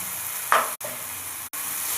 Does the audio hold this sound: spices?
yes